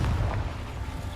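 A Confringo blasting spell goes off in Hogwarts Legacy as a short, loud, booming burst, with a heavy low rumble that fades within about a second.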